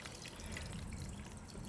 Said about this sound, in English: what I'm gonna do is add water. So just add some clean water.